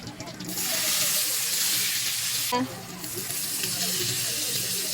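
Garlic and onion sauté in a pan for chicken kinamatisan, giving a steady broadband hiss and sizzle that dips briefly partway through before resuming, with no clear speech over it.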